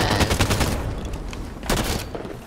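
Rapid gunfire in Halo 5 Warzone, a loud close burst of shots at the start, a quieter stretch, then a second sharp volley near the end, with no talk over it.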